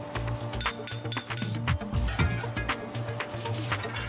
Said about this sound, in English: Then a tray for the ash and a cast iron grate are put into place.